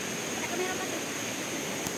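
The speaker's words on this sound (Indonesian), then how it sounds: "Air sudah terdengar ya di bawah bergelincir, berderus" Waterfall at Air Terjun Pancur Aji, water rushing and tumbling below as a steady, even broadband roar with no breaks, moderately distant and continuous throughout.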